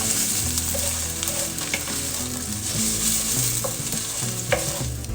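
Sous vide country ribs stir-frying in a pan, a continuous bright sizzle with scattered crackles and pops and the occasional scrape of stirring, close up with no talking.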